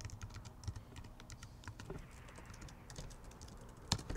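Quiet, rapid typing clicks on a computer keyboard run through the whole stretch in irregular bursts, with one sharper knock near the end and no talking.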